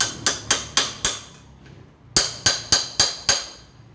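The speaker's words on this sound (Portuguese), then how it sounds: "Pegue um parafuso e um martelo e bata na cabeça do parafuso." A hammer strikes the head of a screw on a car starter motor in two bursts of sharp, ringing metallic blows, five quick hits then a pause and five more, each close, loud and decaying fast.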